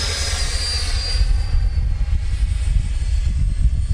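Freewing F-15 90mm electric ducted-fan RC jet during a go-around, giving a steady whooshing roar with a thin high whine, fairly close and continuous, with wind buffeting underneath.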